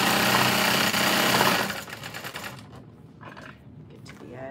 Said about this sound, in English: Sew across the bottom.